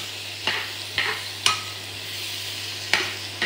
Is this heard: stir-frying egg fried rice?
yes